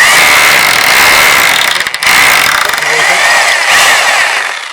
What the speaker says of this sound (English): We're drilling in the middle of the concrete post